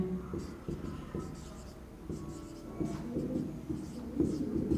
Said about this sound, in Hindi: यहाँ इसको लिखते हैं